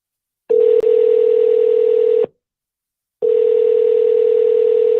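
A steady telephone dial tone sounds loud and close, cutting off after a couple of seconds with a brief silence, then returning unchanged after a dropped call.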